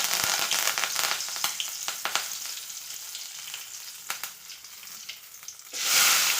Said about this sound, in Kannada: ಇವಾಗ ನಾನು ಏನು ಮಾಡ್ತೀನಿ, ಕರಿಬೇವನ್ನು ಹಾಕ್ತೀನಿ